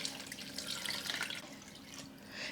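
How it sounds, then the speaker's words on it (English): Water pours into a pot of Thai salmon head fish soup, a steady splashing trickle that runs close and clear for the whole moment with no talking. "Okay, the last thing is the water."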